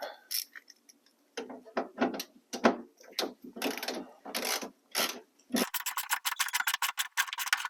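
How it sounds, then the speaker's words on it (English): A 1/4 inch ratchet with a 10mm socket and extension loosens a bolt on a car trunk. Bursts of close, crisp ratcheting clicks come in short runs separated by pauses, ending in a fast, rapid series of clicks. "I'm just using a 10mm socket and an extension and a 1/4 inch ratchet"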